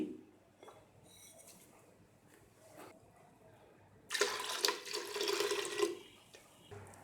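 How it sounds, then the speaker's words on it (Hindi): Quiet kitchen clatter gives way to a gush of four cups of water pouring into a metal pressure cooker holding red lentils, onion slices and spices for a couple of seconds, close and fairly loud. "चार कप पानी इसमें डाल दिया।"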